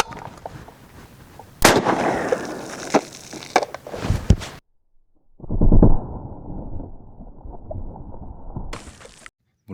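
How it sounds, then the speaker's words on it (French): 12-gauge shotgun slugs fired at water bottles, loud sharp blasts bursting them: a cluster of cracking shots, then a pause of near silence, then another heavy booming shot with lingering rumble and a final brief burst. "les deux bouteilles qui ont éclaté sont parties à 5-6 mètres de haut"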